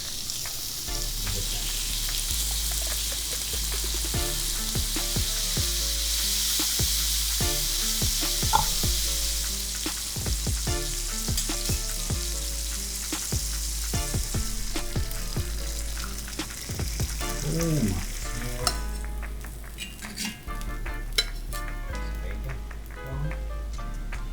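Thick double-cut bacon fries in a pan, giving a steady, close sizzle and crackle throughout, with occasional scrapes and clatter of stirring or turning.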